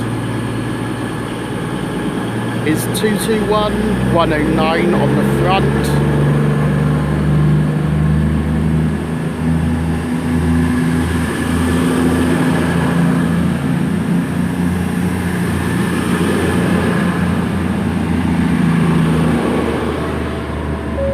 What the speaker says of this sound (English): It's a delayed 11:25 cross-country service to Bournemouth from Manchester Piccadilly, formed of 2 Virgin Train Super Voyagers